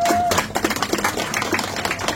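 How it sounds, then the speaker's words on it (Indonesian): A crowd claps in response to a speaker at a community dialogue in Jakarta, a short burst of scattered, uneven hand claps, moderately close, without talk over it. "Tepuk tangan"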